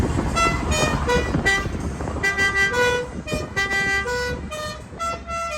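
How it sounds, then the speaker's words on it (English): A classic car's musical horn in Havana plays La Cucaracha, a loud, bright run of short tooted notes in a rhythmic melody, repeated with brief gaps over faint street traffic. "does the horn comes with the car?"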